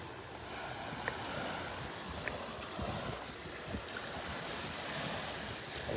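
Small waves break gently along a calm Gulf shore beach in North Naples, Florida, making a continuous washing surf with soft wind rumble on the microphone, and no one speaks.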